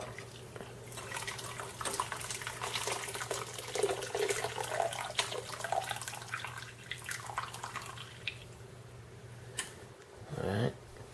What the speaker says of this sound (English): You have to dump the water out.